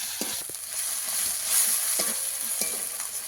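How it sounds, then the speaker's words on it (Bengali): Ginger and garlic paste frying in oil for a Bengali fish dish, a soft continuous sizzle with a few sharp taps and scrapes of a spatula stirring the pan. "আদা রসুন দিয়ে আবারও কিছুক্ষণ ভেজে নেব, যাতে আদা রসুনের কাঁচা গন্ধটা চলে যায়"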